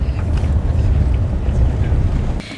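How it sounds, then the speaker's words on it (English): Strong wind blows outdoors by a lake near San Cristóbal de las Casas, buffeting the microphone with a continuous low rumble that drops away at the end. "It's quite a windy day today."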